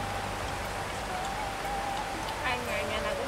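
Heavy rain beats on a house with a steady, loud hiss and close patter, a brief voice rising over it near the end.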